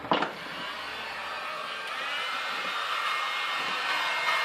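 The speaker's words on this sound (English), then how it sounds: "Get your heat gun out." A heat gun blowing hot air over EVA foam gives a continuous, steady electric whir and airy blowing hiss, close and fairly loud, holding level for several seconds without speech.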